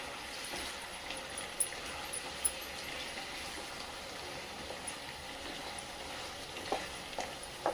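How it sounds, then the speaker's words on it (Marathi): Fried soya chunks are tossed and mixed in a pan, with a low, fairly faint hiss of frying and a few soft clicks of the spoon against the pan. "आणि आता आपण त्यामध्ये हे तळ म्हणजे फ्राय केलेले सोया टाकून घेऊया आणि व्यवस्थित मिक्स करायचे"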